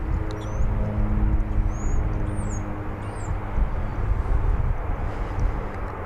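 American Airlines flight 13, bound for Chicago, at Dallas/Fort Worth airport: a steady, fairly loud jet engine roar with low rumble fills the whole stretch, with faint bird chirps above it.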